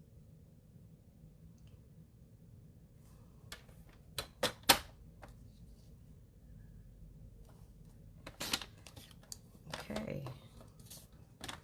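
Blue cardstock being cut for a handmade fun-fold card, a few crisp close snips and paper clicks scattered over a quiet background, with someone speaking briefly.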